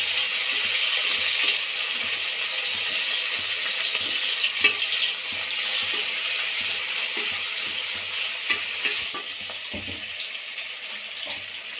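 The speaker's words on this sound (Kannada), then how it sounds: "ಹಾಕಿ ಎಣ್ಣೆಗೆ ಹುರ್ಕೊಳ್ಳಿ." Onions sizzling in hot oil in a pan for green chicken biryani, a steady close crackling hiss with occasional stirring clinks, no talking.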